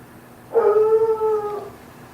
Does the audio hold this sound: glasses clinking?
no